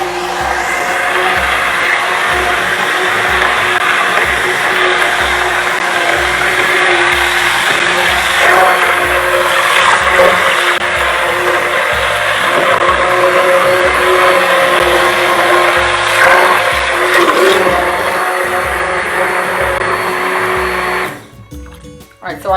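A kitchen blender whirs loudly and steadily for about twenty seconds, mixing tortilla soup ingredients including celery, before cutting off abruptly near the end; talking is faintly mixed in.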